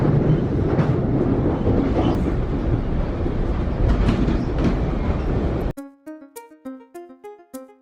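A train rumbles and rattles along the rails for several seconds, loud and steady, then cuts abruptly to a short melodic chime sequence.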